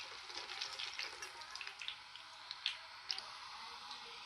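Spicy sev frying in hot oil as it is flipped over, giving a steady soft sizzle with small wet crackles and squishy pops, fairly quiet and close.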